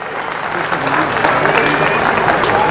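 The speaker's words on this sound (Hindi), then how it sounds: "एक बार जोरदार तालियों के साथ आप स्वागत करें इनका।" Loud, steady applause from a school annual day audience greets the chief guest, a dense wash of clapping sustained throughout with crowd noise mixed in.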